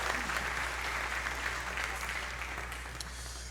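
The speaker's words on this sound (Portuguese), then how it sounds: "Pode aplaudir esse casal abençoado aqui?" A church congregation at a Sunday service applauds a blessed couple, a steady wash of clapping heard at moderate distance over a low hum, slowly easing off.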